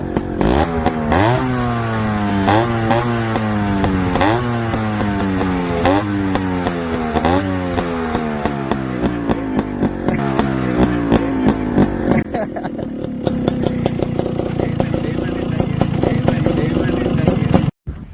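A 23-year-old Yamaha RX 135 two-stroke motorcycle, close and loud, blips its throttle repeatedly. The rising and falling revs swell and drop in a steady rhythm before settling into a rough, crackling idle.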